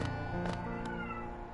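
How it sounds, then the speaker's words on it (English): A domestic cat lets out a single drawn-out meow close by, fading over under two seconds, with no talking. "Pardon my cats."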